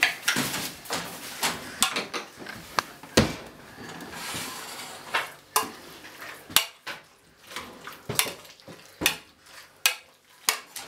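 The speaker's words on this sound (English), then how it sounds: "It's a hard job, this mashing." A masher works potatoes with salt and pepper in a pot for stovies, giving repeated irregular thuds and scraping clanks of metal against the pan, close and steady with no voices.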